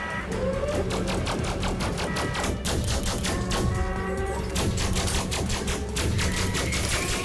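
Rapid sci-fi gunfire in a firefight in the space game Elite Dangerous Odyssey: dense, continuous bursts of loud, close shots rattle on steadily with almost no pause.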